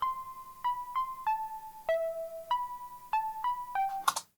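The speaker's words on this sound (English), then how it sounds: "There's also this very faint, more percussive synthesizer sound that I did on my Sub 25." Faint percussive synthesizer line played on a Moog Sub 25, a thin sequence of short plucked notes stepping up and down in a steady rhythm, quiet and alone, ending in a brief bright burst.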